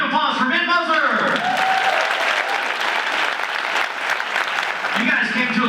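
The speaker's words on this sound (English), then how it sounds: "Round of applause for Ben Moser" Luncheon audience at a charity campaign kickoff breaks into a sustained round of applause, dense clapping filling the room for several seconds while a voice speaks over the start and end.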